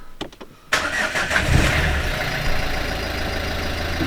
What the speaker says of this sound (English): Let's start that car up.